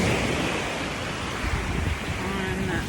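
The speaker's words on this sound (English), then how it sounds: "The waves are a little crashy." Ocean waves crash and wash over rocks on the Barcelona shore in December, a steady close roar of surf with wind buffeting the microphone throughout.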